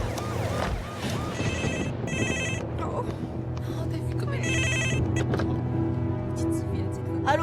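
A telephone bell rings in several short, repeated bursts, answered in a French-dubbed telenovela scene, with voices and movement heard around the rings.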